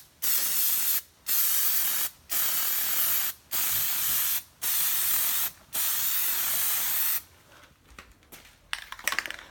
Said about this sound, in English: when you spray, you want to keep about 6 to 8 inches away from the surface that you're spraying